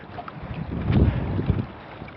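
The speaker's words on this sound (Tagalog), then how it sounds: "Biglang lumakas ang hangin" Strong gusting wind at sea buffets the microphone on a small fishing boat, rough low rumbling that swells in the middle and then eases, with no talk.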